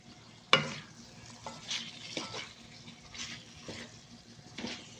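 Masala liver with kasuri methi, salt, ajwain and garam masala stirred in a pan, a faint sizzle broken by a sharp clank and repeated soft scrapes of a spoon, close and quiet, no one speaking.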